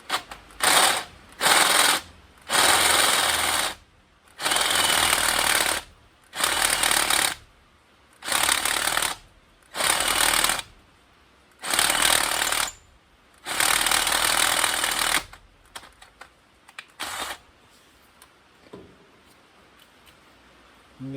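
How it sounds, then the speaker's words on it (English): An electric drill drills a gauge hole through an LS engine block in rapid, loud bursts of about a second each, separated by short pauses, before tapering into lighter, intermittent taps. "I'm going to drill all the way through into"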